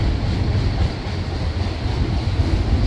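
Norfolk Southern freight train hauling auto rack cars rolls past at Gallitzin, Pennsylvania, a steady loud rumble and rushing wheel noise that holds on without a break.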